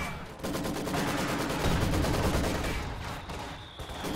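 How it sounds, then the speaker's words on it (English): Mortar and small-arms fire in Company of Heroes 2, a steady stream of rapid crackling shots and bursts layered over a rumbling battlefield, fairly loud and continuous. "He's going to try to get his mortar blasting them."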